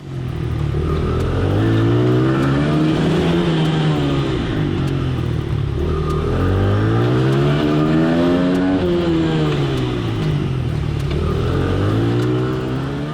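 Small Honda flat-track motorcycles racing around an indoor track in low gear, their engines loud and close, rising and falling in pitch in repeated waves as they lap.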